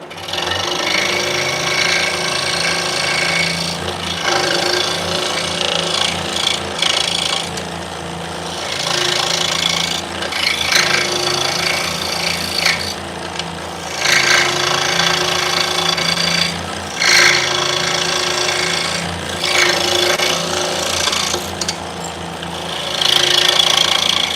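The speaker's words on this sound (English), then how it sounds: "So we're going to cut out a mortise on the inside here." A machine tool cuts a rectangular mortise in wood in a workshop with a loud, fast, chattering buzz that runs in long bursts separated by brief pauses.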